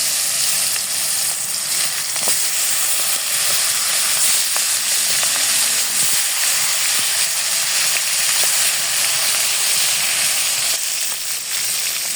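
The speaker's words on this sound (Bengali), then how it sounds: "তেলটা গরম হয়ে গেছে। মাছগুলো ভেজে নিব।" Pieces of pangas fish fry in about two tablespoons of hot oil in a home kitchen, giving a steady, loud, close crackling sizzle that runs unbroken from start to finish.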